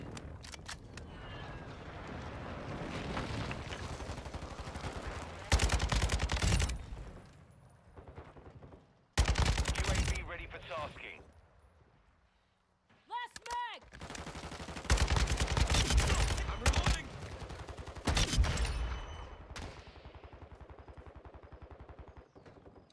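Gunfire in Modern Warfare 2 with a Kastov 762 rifle: loud bursts of rapid automatic shots broken by brief pauses, with game effects and a quieter gap in between.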